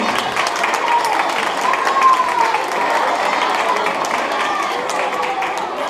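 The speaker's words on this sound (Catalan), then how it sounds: "Oh, fort aplaudiment" An audience applauds at a Santa Cecília concert, a steady wash of clapping from a crowd filling the room, lasting a few seconds with voices murmuring underneath.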